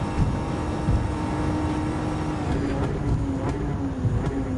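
Race cars in Gran Turismo 7 during a Japanese 4WD challenge, including an R34 Skyline and a Toyota GR Yaris, engines droning loud and steady with a few faint knocks and whines, no talk.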